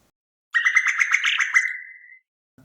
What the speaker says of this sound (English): I think it's a woodpecker making a flight call